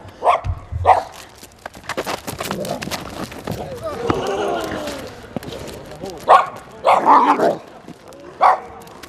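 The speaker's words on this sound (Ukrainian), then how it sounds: "чернівецькі прикордонники продемонстрували школярам приклад захоплення порушника за допомогою службової собаки" A border guard service dog barks in loud, sharp bursts during a demonstration of detaining an intruder for schoolchildren outdoors, with people talking and a scuffle in between.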